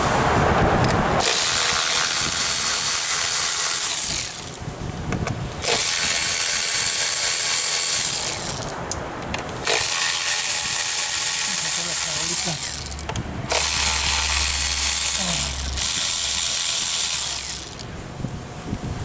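A hand ratchet loosens the ignition coil bolts on a 2003 Mitsubishi Galant, close and loud, in four long bursts of rapid clicking separated by short pauses.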